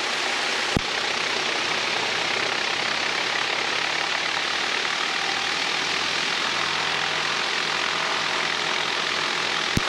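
Douglas A-26B Invader propeller engines running steadily on the ground for the full stretch, a loud, continuous droning roar with no talk over it.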